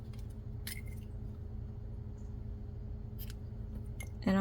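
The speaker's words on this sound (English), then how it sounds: "And then since we won't be using this black anymore, just cut off an inch or so." Scissors cut black yarn with a few small, crisp snips and metallic clicks, close but fairly faint over a steady low hum, with no talk.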